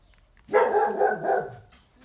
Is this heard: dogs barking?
yes